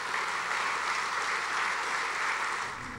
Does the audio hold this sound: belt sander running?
no